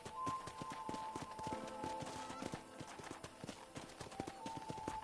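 Horse hooves in Red Dead Redemption clip-clop in a steady walking rhythm, fairly close and moderately quiet, with a faint tonal hum in the background.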